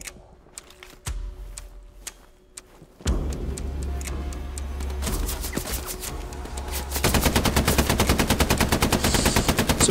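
Machine gun suppressive fire in the Hell Let Loose video game: sparse separate shots at first, then sustained rapid bursts that grow louder and denser into a continuous fast rattle near the end.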